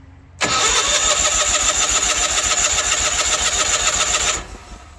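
An old Ford F8000 truck engine, sitting unused for years, cranks briefly and catches with the choke on, then roars into a loud, steady, rough run for about four seconds before the revs drop off.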